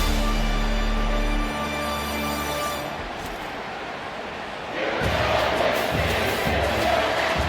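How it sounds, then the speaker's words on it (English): Home crowd in the College Football 25 video game, Missouri vs Michigan, as the defense faces third down: a loud, continuous stadium roar that dips briefly, then swells again. "Here comes this home crowd as the defense tries to get off the field on third down."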